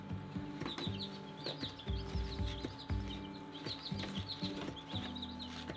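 Black Australorp chicks in a brooder, soft repeated peeping and chirps over a low steady hum, faint and close.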